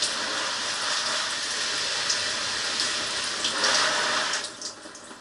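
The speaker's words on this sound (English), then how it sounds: "Blasting that back glass, making sure no water gets into the trunk." A hose sprays hard onto the back glass of a 1966 Ford Mustang during a leak test, making a steady loud hiss of water striking glass and body that eases off near the end.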